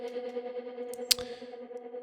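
Stuttering reversed vocal chop from a groove/hypnotic techno production, treated with a 1/16-rate autopan and heavy reverb, sustained tonal layers with a sharp transient burst midway and a washy echo tail.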